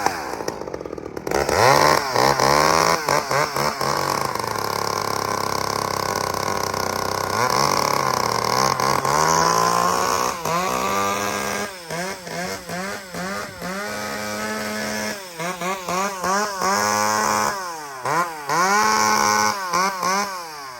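A chainsaw revving and bogging as it cuts down an apple tree, loud and close, first in a long sustained drone and then in a run of rapid throttle surges.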